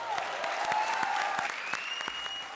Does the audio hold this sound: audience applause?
yes